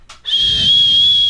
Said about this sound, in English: I gotta give me a whistle